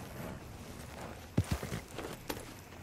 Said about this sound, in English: Can you control your horse?